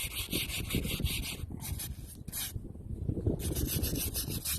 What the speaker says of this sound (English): just helping get into the pores of the stone with the scrubbing brush